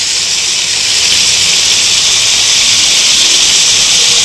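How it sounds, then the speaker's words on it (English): Chicken tikka pieces frying in oil in a pan give a steady, loud, even sizzling hiss that runs unbroken throughout with no voices. "Now let's see how our tikkas are frying."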